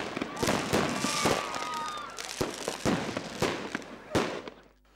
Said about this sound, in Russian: Мастер-класс по запуску небольшого салюта